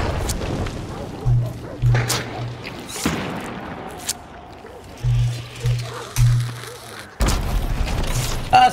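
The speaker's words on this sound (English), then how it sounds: "That's a big bomb, boy!" A bomb goes off in the Hunt: Showdown video game, with heavy booming blasts and a sharp burst near the end cutting through low rumble, while someone talks in between.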